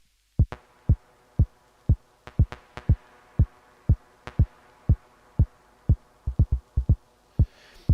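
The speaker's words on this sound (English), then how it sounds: "what I can do is I can transform this bass into a little synth." A dub techno bass line, transformed into a small synth sound, plays as a series of short, punchy, deep thumps in a loose, minimal rhythm. Each hit is clear and close, with brief gaps between pulses and no voices.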